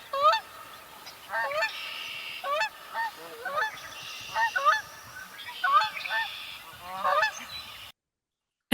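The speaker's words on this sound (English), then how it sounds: "essentially it is a very loud honk" Canada goose giving a series of loud, nasal honks, repeated in irregular bursts of two or three calls, close and clear against a quiet background.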